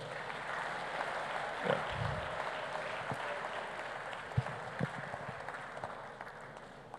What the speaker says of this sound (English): Another round of applause for the Deputy Prime Minister.